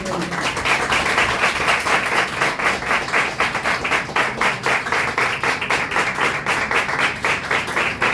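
A church congregation claps loudly and in rhythm: a steady run of sharp, synchronized claps at a quick even tempo, close and continuous throughout.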